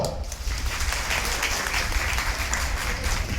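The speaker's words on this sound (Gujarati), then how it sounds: "આખી કમિટી માટે ખૂબ ખૂબ તાળીઓ પાડો" A hall audience at a prize-giving ceremony claps steadily, a thick, continuous patter of many hands at fairly even loudness from start to finish.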